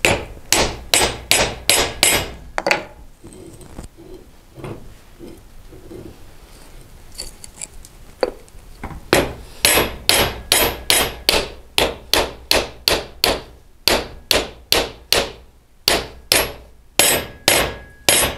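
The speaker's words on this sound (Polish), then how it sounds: "Doszło, młotek się odzywa." Hammer blows knocking a new bearing into a grain mill, sharp metallic strikes in quick rhythmic runs of many hits, pausing for several seconds midway before resuming in steady bursts.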